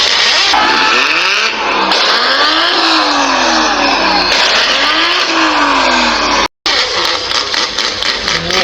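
A car engine revs hard close by, climbing and falling in pitch through several repeated throttle blips, with a brief cut-out near the end.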